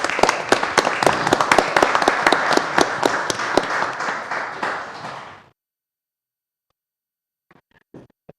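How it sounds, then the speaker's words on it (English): Council meeting audience applauding, a dense run of clapping with a few sharper individual claps standing out, lasting about five seconds and stopping abruptly, followed by silence and a couple of faint stray sounds near the end. "Let's give them a round of applause"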